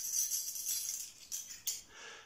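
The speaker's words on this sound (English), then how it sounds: "You open the door, keys jingling as you turn the key in the lock." A bunch of keys jingles as a key turns in a door lock, performed as a foley sound effect; light, bright metallic rattles come in a few short bursts, close and fairly quiet.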